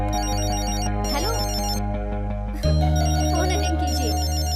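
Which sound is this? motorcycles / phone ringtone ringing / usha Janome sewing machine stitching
phone ringtone ringing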